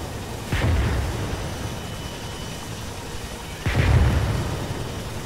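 Two heavy booming 155 mm howitzer artillery strikes in the video game Arma 3, set in Vietnam, spaced about three seconds apart, each a deep rumbling blast over constant background noise, with no voices.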